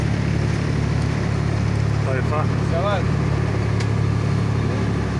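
A fishing boat engine drones steadily and loudly as the boat sets out from Güllük harbour in Milas, a constant low rumble with wind noise and someone talking briefly over it.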